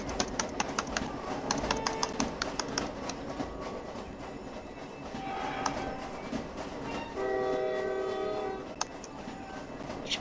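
Train in the Roblox game Jailbreak, a steady rumbling rail run with clicking, keyboard-like taps early on and a brief tonal horn-like blare near the end, moderately loud with no talk.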